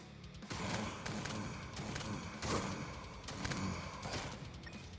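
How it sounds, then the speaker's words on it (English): SMG gunfire from an enemy in Jupiter Hell, played as a Marine on Hard, comes as a steady, dense rattle of bursts that swell every second or so over the ongoing game noise. "there's a dude shooting me in the back of the head. With an SMG."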